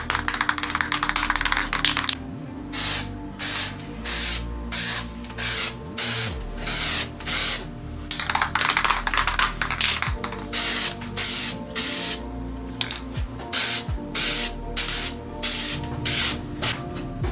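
Heavy spray coats hissing onto a BMW E90/E92 3-Series roof trim moulding, loud close bursts in steady repeated pulses a second or so long with short gaps between.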